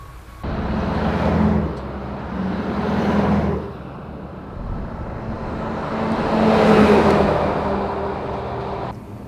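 A Ukrainian-built Novator armored vehicle on a Ford F550 base with a 6.7 engine and reinforced suspension drives by, engine noise swelling twice and fading between, fairly close and loud, with no talk.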